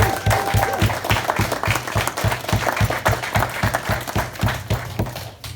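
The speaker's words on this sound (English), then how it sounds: "Let's give Eric a big round of applause." Sustained audience applause fills a community music school launch in Dudley, loud and steady with a regular clapping pulse that carries on without a break.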